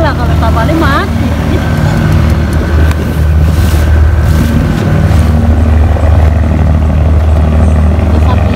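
A motorboat engine on an estuary near a fishing port drones steadily at close range over water, with wind buffeting the microphone and a voice speaking briefly at the start.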